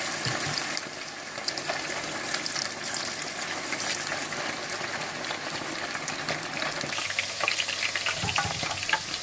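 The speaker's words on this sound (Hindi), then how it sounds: "चिकन को आपने हाई फ्लेम पर डीप फ्राई करना है" Chicken pieces deep frying in hot oil over a high flame, a steady dense sizzle and crackle holding close and even throughout with occasional brief pops.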